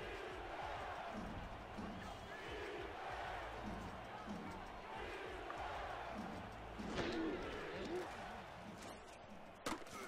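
A football stadium crowd at an Atlanta at San Francisco preseason game roars in a broad, sustained swell while the defense lines up on third down, with a commentator talking over it.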